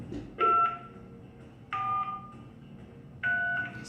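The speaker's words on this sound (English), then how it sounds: "Using your touch-tone phone, enter the first 3 letters of the sin you wish to confess now." Touch-tone telephone keypad dialing, three separate two-tone beeps spaced about a second and a half apart, clear and moderately loud against a quiet background with no talk.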